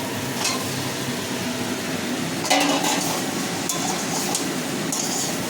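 Fried soybean chunks and potato tossed into cooked spice paste in a pan, with steady sizzling, clinking utensil strikes and scraping stirs, one louder clatter midway.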